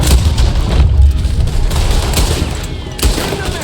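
Gunfire in the video game Red Dead Redemption 2, a loud continuous rumbling barrage of shots and booms blending into a heavy roar with a fresh burst near the end.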